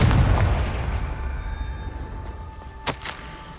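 In the video game Hogwarts Legacy, the Confringo spell explodes with a loud, deep blast that rumbles and slowly fades, followed by a sharp, brief crack near the end.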